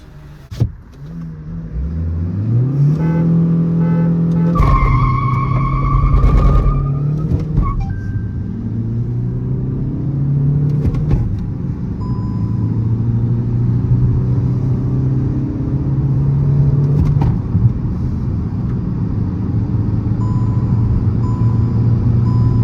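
A Hyundai Verna and a stage 1 tuned Honda City launch side by side in a drag race with traction control and AC off, engines revving hard then pulling away in a loud, sustained roar with rising gear pitches.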